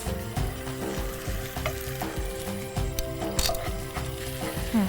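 Hot and sauce idli mixture with a splash of vinegar sautéing in a pan, a steady close sizzle broken by repeated scraping and clinking strokes of a spoon stirring against the metal.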